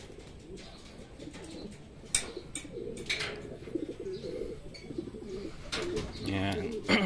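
Racing pigeons cooing repeatedly outdoors as they return from club training, soft throaty calls mixed with occasional wing flaps and faint background chatter.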